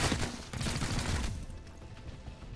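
Gunfire in the video game XCOM: Chimera Squad, a dense rattling burst of shots that fades after about a second and a half into quieter scattered echoes.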